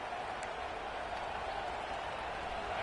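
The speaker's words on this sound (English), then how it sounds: "The crowd elevating its energy, willing this defense to get a stop on this big third down" A stadium crowd in College Football 26 roars in a steady, dense wash of cheering as energy builds before a big third-down play, loud and continuous throughout.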